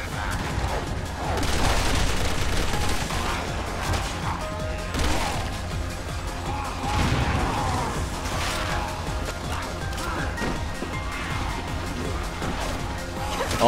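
Explosions and rapid gunfire from Resident Evil 6 combat, a grenade blast among sustained, dense crashing shots and bursts that stay loud throughout, with a voice occasionally shouting over the fight.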